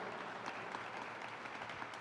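Steady audience applause from a crowd at an outdoor public event announcing a park, dense and continuous with no talk over it.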